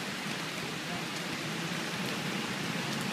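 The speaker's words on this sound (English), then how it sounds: "in this pouring rain" Pouring rain at an outdoor protest gives a steady, dense hiss that fills the whole stretch evenly, moderately loud with no talk or other sounds rising above it.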